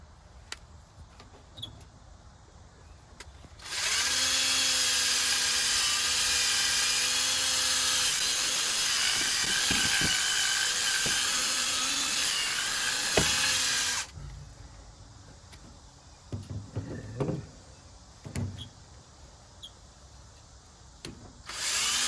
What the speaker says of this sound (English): It's the polisher. Well, it's cleaning all the rust off from that piston.